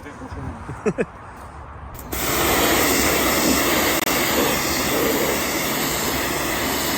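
Water jets noisily onto a Claydon seed drill on a farm, a loud steady hiss and spray that starts suddenly after a couple of seconds of quieter knocks, then carries on evenly to the end.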